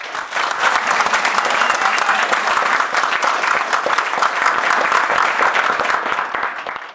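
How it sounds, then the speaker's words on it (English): A crowd applauds loudly and steadily, many hands clapping in a dense continuous patter that swells in quickly and fades away near the end. "Give me a round of applause, people."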